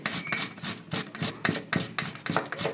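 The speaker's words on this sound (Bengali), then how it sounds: "এই যে এভাবে আমি আস্তে আস্তে সব কচুগুলো কুড়িয়ে নেব।" Taro root being grated by hand for a mashed taro dish, a steady rhythmic rasping scrape repeating about twice a second, close and moderately loud, with no talk.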